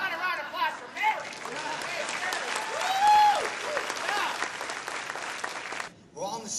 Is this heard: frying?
no